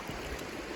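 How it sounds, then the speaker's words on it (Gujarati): Clear river water flows steadily through a jungle, a soft, even, close rushing and gurgling lasting under a second, with no voices. "સરસ મજાની નદી છે, ચોખ્ખું એકદમ પાણી છે."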